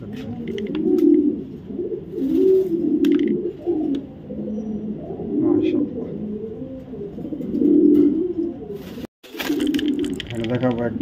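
A white male racing pigeon on a loft coos repeatedly in steady rumbling phrases, close and fairly loud, with a brief gap near the end before the cooing resumes; faint background chatter and scattered bird chirps.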